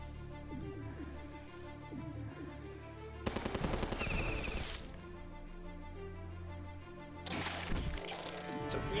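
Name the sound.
turret gunfire in video game Battle Nations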